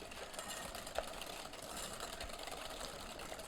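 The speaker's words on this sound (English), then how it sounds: "And just whisk that in." Sugar gets whisked into a mixture for chocolate coconut macaroons, giving a quiet, fast and steady scraping rhythm in a bowl with no talking.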